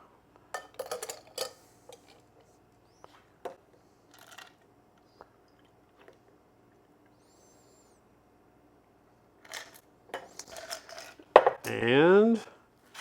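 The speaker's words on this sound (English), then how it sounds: "Then we're gonna strain this off." A cocktail is strained into a glass of ice. Scattered light clicks and taps of bar tools come first, then a short pour near the end whose pitch rises as the glass fills.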